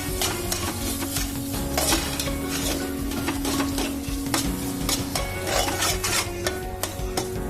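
Milk solids (khoa) being stirred while cooking down in a pan for banana-chikoo vadi, with continuous scraping and rubbing strokes over a steady low sizzle, the spatula clicking against the pan at close range, no talking.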